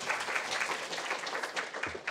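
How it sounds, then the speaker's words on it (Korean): Steady applause from a conference audience at a cybersecurity results presentation, a dense even patter of many hands lasting about two seconds with no speech over it. "박수 부탁드립니다."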